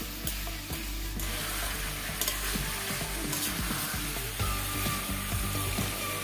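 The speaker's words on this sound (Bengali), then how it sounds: "আমি মাংসগুলিকে 15 থেকে 20 মিনিট এইভাবে কষিয়ে নিলাম।" Chicken pieces with cauliflower are stir-fried in a pan, a steady loud sizzle with repeated spatula scrapes and clacks, up close, over a constant low hum.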